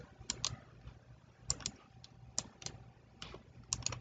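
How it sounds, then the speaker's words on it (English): Computer mouse clicking at a desk while working in an Excel spreadsheet: quiet, sharp clicks in pairs and small clusters, about a dozen over four seconds, over a low background hum. "Here, I'm clicking all over the place."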